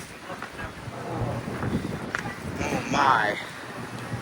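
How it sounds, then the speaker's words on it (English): Strong storm wind gusting across a Florida beach in Tampa, with blowing sand, roaring and buffeting the microphone in heavy, uneven surges while a person speaks over it. "Look at the wind."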